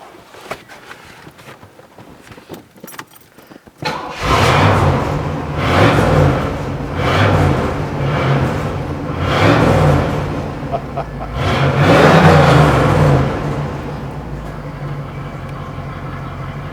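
A car engine turns over after a few seconds of quiet handling noise, catches and runs loudly, then swells through several distinct revs in succession, close up.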